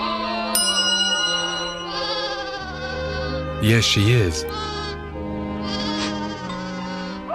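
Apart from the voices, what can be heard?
sheep bleating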